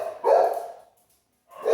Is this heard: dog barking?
yes